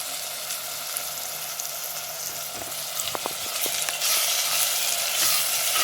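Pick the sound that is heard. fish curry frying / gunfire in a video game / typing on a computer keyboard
fish curry frying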